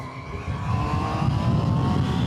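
A 2025 Triumph Tiger 800 Sport motorcycle engine pulls hard under acceleration, a continuous droning roar that swells in loudness, heard close from the rider's position with wind rush.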